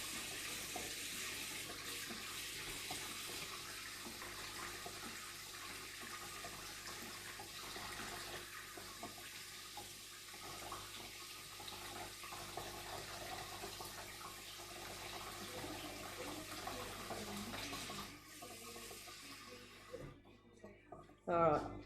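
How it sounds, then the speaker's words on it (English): A hot water tap runs steadily into a bowl while mixing leftover sourdough starter for bread making, a continuous broadband gush lasting about twenty seconds before cutting off, followed by a few brief clinks. "then I turn the hot water tap on"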